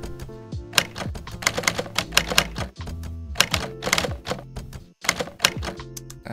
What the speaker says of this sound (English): you want that kind of manual typing effect